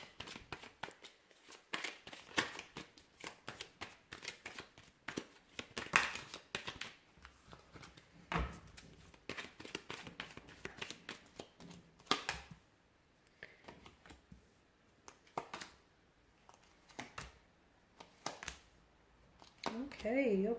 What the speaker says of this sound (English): So we'll give the cards a shuffle here, guys